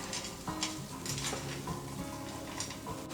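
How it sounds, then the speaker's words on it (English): Peas being mixed into a Manipuri brahmi pennywort salad, with soft stirring and scraping and light clinks of a utensil against a bowl, close and quiet. "And then let us mix the peas."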